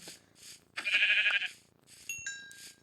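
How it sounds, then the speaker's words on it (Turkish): Short, fairly faint bleats from a white Minecraft sheep come in a few separate bursts, followed by chiming game sound effects, with no talking over them. "Beyaz koyun. Ne güzel."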